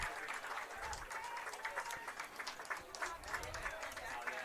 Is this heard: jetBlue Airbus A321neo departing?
no